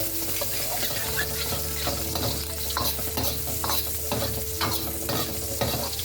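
Chopped garlic and ginger frying in a pan for sinigang, a quiet continuous sizzle with repeated stirring clatter throughout.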